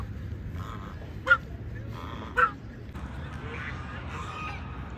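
Ducks scramble over a piece of Arabic flatbread, giving two sharp honking quacks close by against a low background rumble, with fainter calls following.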